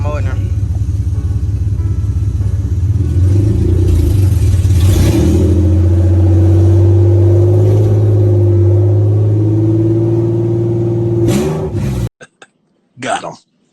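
A VR30 engine-swapped Nissan G37, run with no exhaust, revs steadily, loud and close, its droning note climbing and held for several seconds before cutting off abruptly, with people talking and shouting around it.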